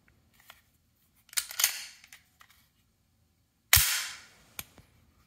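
An HK USP or USC pistol fired in single action gives sharp, close reports. Two clustered shots come early, then a louder single crack with a ringing tail, followed by a small click, in quiet surroundings.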